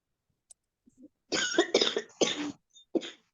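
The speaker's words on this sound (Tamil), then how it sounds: "யாருடாப்பா இருமுறா?" Several harsh coughs ring out close by during a Margazhi month kolam drawing contest: a few faint clicks, then a run of three throaty bursts and one short final cough.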